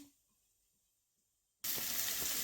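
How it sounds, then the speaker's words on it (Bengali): Water pours into a cooking pot while eggs are being prepared, a sudden loud steady gush that starts after a near-silent pause and runs on to the end. "এখন দেখো জল দিয়ে দিলাম"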